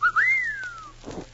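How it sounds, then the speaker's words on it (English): A single person whistles a short, clear tune that slides upward and then glides down in one long falling note, close and alone, followed by a brief soft rustle. "I was just whistling to entertain myself."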